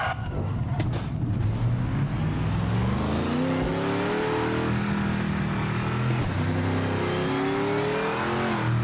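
A race car engine in the Project Motor Racing video game revs loud and continuous, its pitch climbing and dropping through gear changes with no talk over it.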